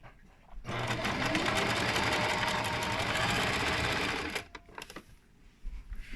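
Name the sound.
sewing machine stitching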